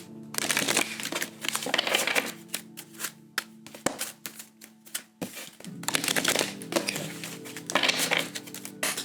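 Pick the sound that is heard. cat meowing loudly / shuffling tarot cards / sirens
shuffling tarot cards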